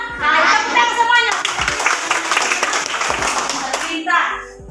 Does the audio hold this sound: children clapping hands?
yes